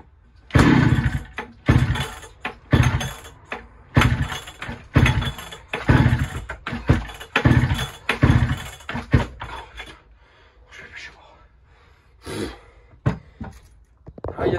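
Echo 660 EVL two-stroke engine, started after a year of sitting idle, runs rough and uneven: repeated loud revving bursts with brief drops, sputtering toward the end before picking up again.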